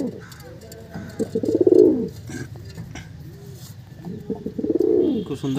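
Pigeons at a home loft coo in two swelling, rounded phrases, one near the two-second mark and another near the end, over a low steady background with faint chirps.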